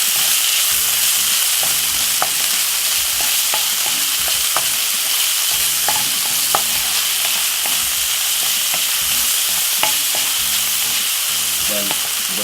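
Saltfish sizzles steadily in a hot pan for a Jamaican cornmeal, saltfish and callaloo dish, a continuous frying hiss broken by scattered clicks and scrapes of stirring.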